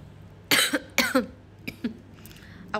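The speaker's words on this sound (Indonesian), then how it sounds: "16 batuk-batuk mulu ya, sampai sekarang belum sembuh-sembuh tau" Several sharp coughs in two close bursts, then a few lighter ones, fairly near and loud against a quiet room.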